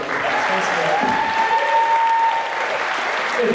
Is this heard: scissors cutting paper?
no